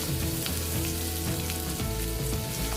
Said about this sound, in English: listen to that nice sizzle from the sausages